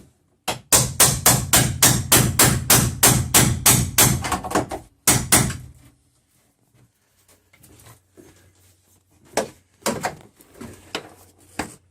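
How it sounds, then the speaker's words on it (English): A chisel is hammered into the thick center strut of a van panel: about a dozen loud, evenly paced metallic strikes come close together, then a pause and a few more scattered blows. "So here he's going to chisel."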